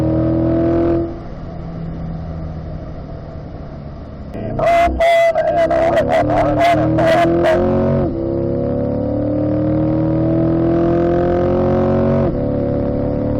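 A 2020 Corvette races around a track and fishtails slightly, its engine droning loudly and climbing in pitch as it accelerates, with a cluster of sharp bursts midway through the run.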